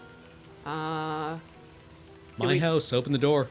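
Rain in the Blue Prince video game patters steadily and softly as a constant background bed, heard behind a drawn-out sung note and a speaking voice.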